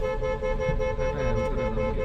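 A sustained, loud car horn blaring continuously over the low rumble of engines.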